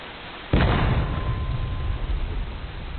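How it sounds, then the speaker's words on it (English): A single loud cannon blast of canister shot in the Civil War game War of Rights, a sharp boom at about half a second followed by a long rumbling tail with a faint tone lingering. "I'm using Canister Shot, so that way I can at least try to hit my target"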